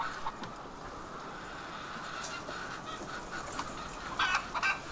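Laying hens cluck inside a henhouse, with a continuous murmur of many birds and a few louder clucks standing out near the end, heard close and without talk.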